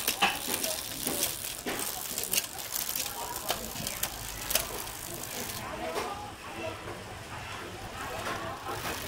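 Rear derailleur on a Giant TCR 6500 road bike with a full Shimano Tiagra groupset and 10-speed cassette shifting down through the gears, giving a run of close, crisp mechanical clicks and ratcheting freewheel ticks over a steady whirring drivetrain.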